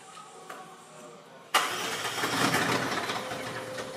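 A 2024 McLaren 750S MSO fires up with a sudden loud crank-and-catch burst, then settles into a steady, rumbling idle close by, with no talking over it.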